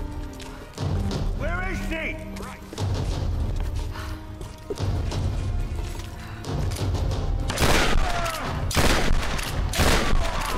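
Gunfire in Tomb Raider: Definitive Edition crackles in loud, sustained bursts and volleys with thuds and impacts. Game characters shout over the shooting throughout.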